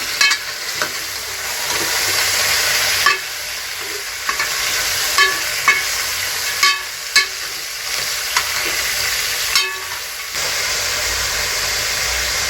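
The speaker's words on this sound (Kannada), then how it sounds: "ಇವಾಗ ಚೆನ್ನಾಗಿ ಒಂದ್ಸಲ ಮಿಕ್ಸ್ ಮಾಡ್ಕೊತೀನಿ." A steady sizzle of food frying in a pan, with repeated sharp scraping clicks of a spoon stirring at irregular intervals, close up.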